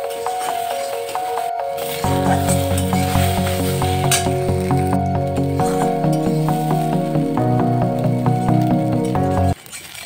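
Ivy gourd and egg bhujia with capsicum and pink salt frying in a pan, a steady close sizzle with stirring and rattling of the utensil running almost the whole time, cutting off near the end.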